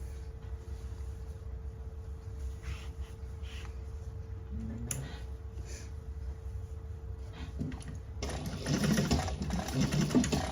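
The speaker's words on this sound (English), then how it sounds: "And now we can sew up the big hole that we made." Sewing machine closing the opening in a tote bag lining, starting after a quiet stretch and running steadily for the final two seconds, close and moderately loud.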